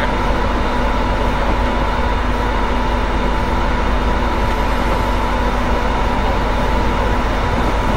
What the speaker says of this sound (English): as you can hear by the engine, that's a diesel locomotive, or technically diesel electric as it is